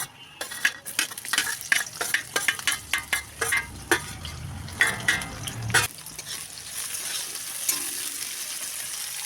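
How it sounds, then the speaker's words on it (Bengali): Dried chillies, black cumin seeds, chopped onion, garlic and green chilli hit hot oil in a kadai, with a steady crackling sizzle and a run of quick spoon-scraping stirs against the pan, then a softer continuous fry. "এখন কড়াইয়ের মধ্যে তেল গরম করে শুকনো লঙ্কা, কালো জিরে ফোড়ন দিয়ে কেটে রাখা পেঁয়াজ, রসুন, কাঁচা লঙ্কাটা দিয়ে দেব"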